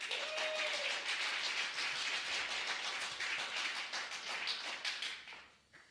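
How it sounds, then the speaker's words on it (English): Audience applause at a horror film festival awards ceremony, a full crowd clapping steadily for several seconds before fading away near the end, with a faint brief tone early on. "can we give a nice round of applause for all the movies that we got to see tonight?"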